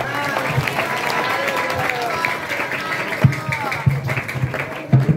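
An audience applauds together at a PERKASA 2023 Islamic leadership session at PPIT Alhikmah Boyolali. Steady crowd clapping runs throughout, with voices and a few louder thumps mixed in.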